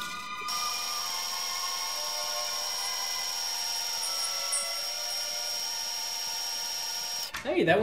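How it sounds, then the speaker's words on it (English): A drill with a brand new bit whines at a steady high pitch for several seconds, cutting continuously into brass for a tuba valve casing, then stops and a voice speaks briefly. "This is a brand new drill bit."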